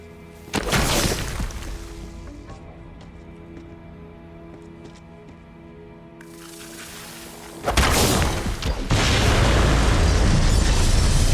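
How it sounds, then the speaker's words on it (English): Set bombs detonate in the game Borderlands 3 with a loud, close explosion that rumbles and slowly fades, followed by a second heavy blast and a sustained roar of debris and fire. "Explosion echoed through the forest, and those devil riders didn't even get a chance to hit the brakes."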